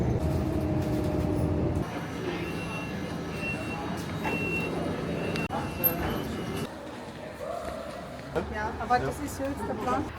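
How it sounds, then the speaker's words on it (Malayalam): A moving passenger train in Germany rumbles steadily, with rattling carriage noise and occasional clanks, while people talk over it. "ട്രെയിൻ എടുത്തു തുടങ്ങി, ട്രെയിൻ പോയിക്കൊണ്ടിരിക്കുക."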